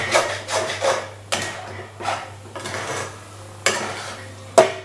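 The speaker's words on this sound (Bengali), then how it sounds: "এটাকে আমি এরকম ভাজতে ভাজতে একটু শুকনো করে নিয়ে তোমাদের কাছে ফেরত আসছি" A spatula scrapes and stirs lentils through hot oil in a pan, drying them out: uneven, rubbing strokes close by, with a sharp knock near the end over a low steady hum.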